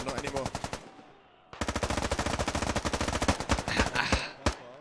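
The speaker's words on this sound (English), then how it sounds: "Keeping that suppressing fire up" Sustained automatic suppressing fire in a large-scale military shooter game, rapid evenly spaced bursts of loud close gunshots, a brief pause, then a long continuous stream of rounds ending in a few scattered shots.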